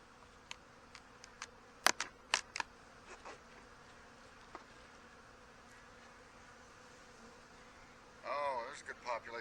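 Honey bees hum faintly and steadily around an opened hive during an early-season inspection, with a few sharp clicks and knocks of handling and a louder, closer buzz near the end.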